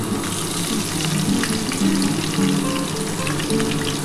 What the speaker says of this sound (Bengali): দিয়ে এটা একটু ভেজে নিই